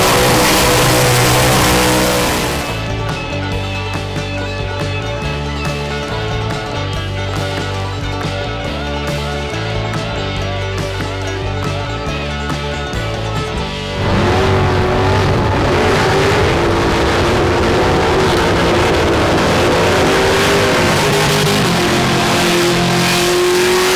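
A car engine screams at high revs during a burnout at the Springnats drag racing event, very loud and sustained, holding steady and then rising as the throttle opens further.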